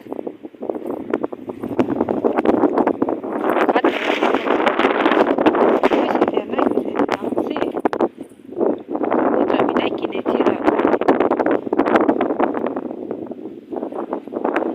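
Strong wind buffeting the microphone in loud, rumbling gusts that rise and fall throughout, with a brief lull partway through.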